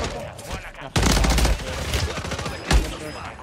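Gunfire in Warzone 3 on Fortune's Keep, a sudden loud burst of rapid automatic shots with a sharp blast near the end, close and dominant.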